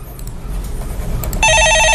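Electronic telephone ringtone on a stock-consultation call-in line, starting suddenly partway through as a loud, steady multi-tone electronic ring over a soft low background hum.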